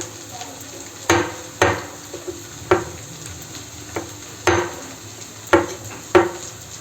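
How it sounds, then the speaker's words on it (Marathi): Roasted eggplant is mashed with a spoon, about eight sharp clacks of metal on the dish at an irregular pace over a low background hum. "आता आपण ह्याला मॅश करून घेऊया."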